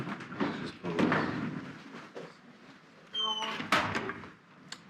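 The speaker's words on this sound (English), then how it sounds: "Doors closed." Doors sliding or swinging shut somewhere on a trip through Mexico, with a few solid thunks and a bright squeal of moving panels, heard close among background murmur and movement.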